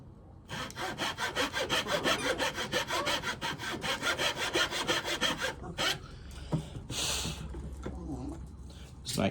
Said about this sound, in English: That's a really nice pull saw.